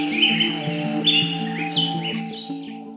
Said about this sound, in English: A symphony of insects and birds